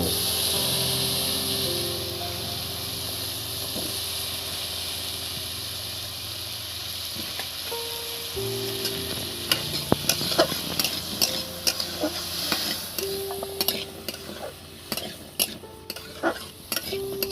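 Chopped potatoes fry and get stirred in a pan for a plain white potato curry. A steady sizzle runs throughout, and scraping stir strokes grow busier and more rhythmic toward the end, close and fairly loud.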